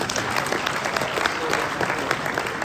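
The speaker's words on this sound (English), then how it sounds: "clap for me one time." A crowd applauds loudly and steadily, dense clapping from many hands filling the room, with a few voices mixed in.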